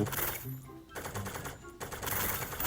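Rapid automatic gunfire rattles in sustained bursts in the shooter game T3 Arena, dense and loud with short gaps between volleys.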